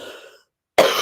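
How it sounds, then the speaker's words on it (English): A person coughs close to the microphone during a live stream: a short cough fades out, then after a silent pause a second, louder, harsh cough bursts in and carries on to the end. "I apologize for the coughing that's inevitably going to happen during this live stream."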